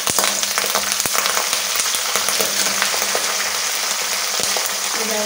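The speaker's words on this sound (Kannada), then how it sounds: "ಈಗ ಅದಕ್ಕೆ ಕರಿಬೇವಿನ ಸೊಪ್ಪು ಹಾಕ್ತಾ ಇದ್ದೀನಿ" Curry leaves crackle and spit as they hit hot oil with green chillies, a loud, close, continuous sizzle dotted with sharp pops.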